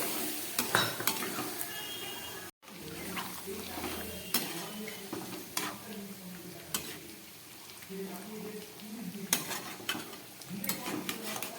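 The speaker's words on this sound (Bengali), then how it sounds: "এবার আমি দিয়ে দিচ্ছি পরিমাণ মতো জল।" A hot pan of jackfruit curry being stirred after a little water is added, giving a soft sizzle and bubbling with frequent clinks and scrapes of a spoon against metal, close by, broken by a brief silent gap.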